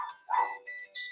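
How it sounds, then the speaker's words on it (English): A dog in a room gives a few short high yips and whimpers, close and fairly quiet, one after another with brief gaps. "over here, my dog is going crazy."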